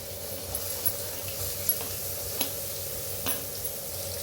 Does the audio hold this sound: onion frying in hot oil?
yes